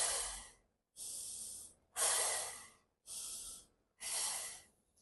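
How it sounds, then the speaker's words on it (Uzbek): Five slow, deliberate breaths from the belly alternate in and out, each a close, airy rush lasting about a second, separated by brief silences, with no speech. "Endi qornimizdan nafas olamiz, chiqaramiz."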